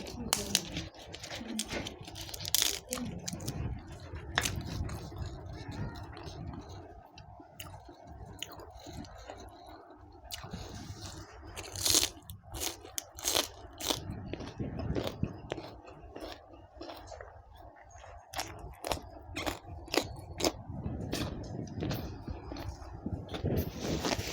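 Close, steady chewing and smacking of sticky rice with grilled chicken, with soft lip and mouth sounds, continuing throughout over faint room noise and occasional quiet voices.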